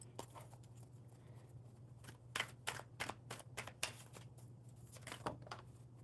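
Tarot cards being shuffled in riffling bursts with crisp flutters and taps, fairly close and fairly quiet over a steady low hum, with no talking.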